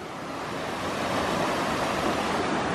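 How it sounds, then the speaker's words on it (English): A river rushes steadily along a solo hiking route on the Wicklow Way, a broad, continuous wash of flowing water, fairly loud with no voices. "So I found the river."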